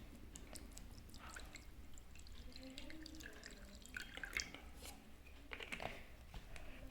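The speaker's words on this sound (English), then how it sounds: "afterwards you should take the distilled water" Distilled water poured into a Petri dish during a potato osmometer osmosis experiment, heard as a faint, quiet trickle with scattered soft drips.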